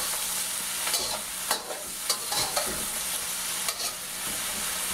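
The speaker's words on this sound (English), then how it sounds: "So we're just going to do a light fry on our eggplant." Eggplant is tossed in hot cooking oil for a light fry, giving a steady close sizzle broken by a few sharp clatters from the pan being tossed and stirred.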